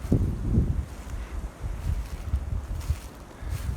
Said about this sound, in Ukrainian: Дуже великий вітер.